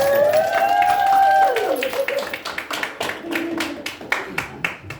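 Scattered clapping at a wedding ceremony builds into applause after a tonal sweep, with sharp individual claps standing out near the listener.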